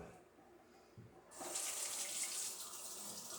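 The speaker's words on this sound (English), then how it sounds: "so I'm going to add a little cold water to it." A tap switches on partway through, and cold water runs steadily with a bright hiss for the rest of the clip.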